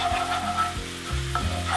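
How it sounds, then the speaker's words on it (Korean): Vegetables sizzle and hiss in a hot pan during stir-frying for a one-pan steak cream pasta, with steady frying crackle and several scraping stirs, close and fairly loud, no voices. "볶은 채소를 양옆으로 치우시고"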